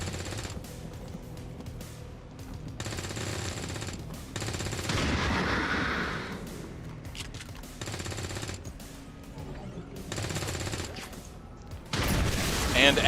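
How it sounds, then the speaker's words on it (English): Heavy automatic gunfire in XCOM 2 as the Global Occult Coalition fires on a soldier, loud rattling bursts broken by short pauses, with a sharp blast near the end. "the Global Occult Coalition is shooting at Mox."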